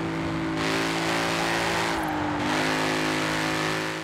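A car in the Forza Horizon 4 racing game holds a loud, steady engine drone, broken by two abrupt, harsh gear changes about two seconds apart.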